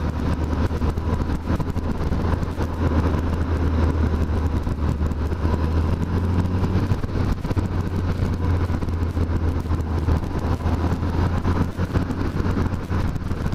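A Suzuki Hayabusa motorcycle riding in Japan, its engine a loud continuous drone with a steady low rumble, heard close and alone for the whole stretch.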